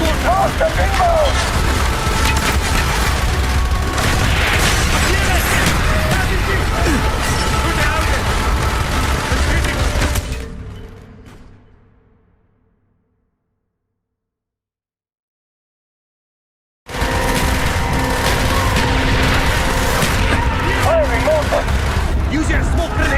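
Mortar explosions and gunfire in the Call of Duty: Black Ops video game form a loud, dense, continuous barrage of booms and shots. The sound fades out to silence partway through, then resumes at full intensity.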